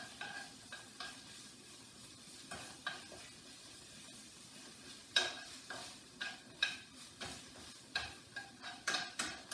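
Tomato paste is stirred in a pan for beef stroganoff, a soft sizzle under a run of quick spoon scrapes and taps that grow denser and louder toward the end, close and without talk.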